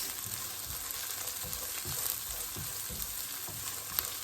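Baby spinach sautés in a pan with a steady, soft sizzle and a few low scraping stirs at a regular rhythm. Close and moderately quiet, with no talking.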